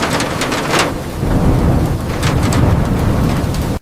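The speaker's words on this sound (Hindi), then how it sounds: "खिड़की पर गिरती बारिश उसे और बेचैन कर रही थी" Rain and thunder as a sound effect in a narrated horror story set in Karachi: heavy rain hisses steadily throughout while low rolling thunder rumbles swell and recede, loud and close, with no talk.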